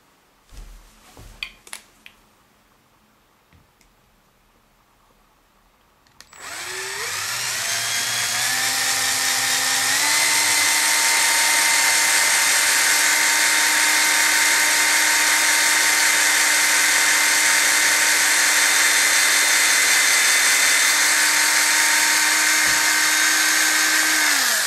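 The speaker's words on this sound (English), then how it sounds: "Obviously we want to drill in as deep as we said." A few faint taps, then an electric drill spins up loudly and whines at a steady high pitch as it bores continuously into a Fender Stratocaster guitar body to the end.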